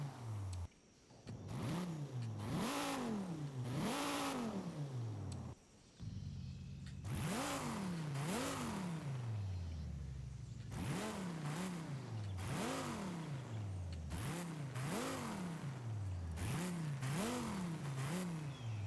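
A car's engine and exhaust rev repeatedly in Forza Horizon 5, with a series of sharp throttle blips rising and falling in pitch, roughly a dozen revs in bursts separated by brief pauses, loud and close with no talking.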